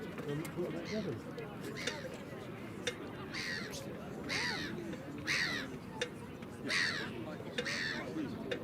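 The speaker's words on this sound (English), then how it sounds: "Noisy bird." A crow gives a run of about six loud, hoarse caws, spaced a second or so apart, while people keep talking nearby in the open air.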